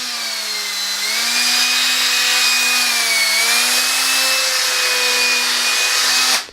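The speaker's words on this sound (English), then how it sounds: "Now this drill" An electric drill running on battery power hums with a steady, loud motor whine that holds nearly constant pitch for several seconds, then cuts off abruptly at the end.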